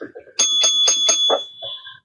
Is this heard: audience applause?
no